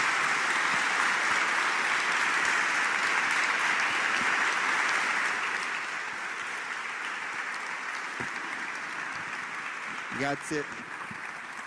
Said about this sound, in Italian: vi chiedo un altro applauso per l'ospite.